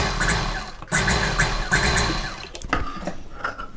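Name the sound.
sewing machine stitching a blouse piece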